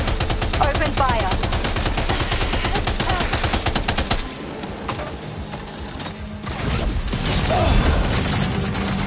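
Loud, continuous gunfire from rapid automatic bursts fills the clip, dense and close with a brief dip midway before swelling again.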